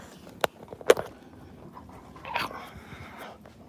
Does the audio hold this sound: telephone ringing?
no